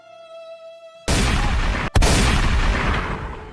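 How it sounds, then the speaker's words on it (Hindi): A gunshot aimed at a man's leg, a film sound effect, crashes in abruptly after a quiet tonal hum, followed by a brief cut and a second loud blast that trails off with a rumbling decay. "पहली गोली इसकी टांग में मारो ताकि ये एकदम से ना मर पाए।"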